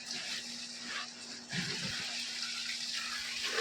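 Water from a pump on a well runs steadily over a garden of banana and areca nut trees, a soft continuous rush with a faint pump hum beneath and a brief splashing burst midway.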